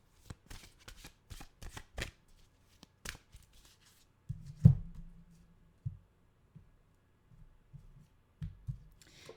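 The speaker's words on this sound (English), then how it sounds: "I kid you not, you saw me shuffle." A deck of mantra cards is shuffled by hand in a quiet room, giving a series of soft riffling bursts and taps with a few louder thumps as the cards are squared.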